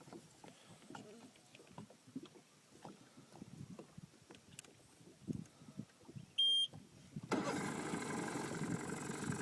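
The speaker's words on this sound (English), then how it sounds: "Start it. Start the engine." A small boat's outboard engine catches and settles into a loud, steady running drone, following a stretch of outdoor chatter and movement noise with children's voices on the water.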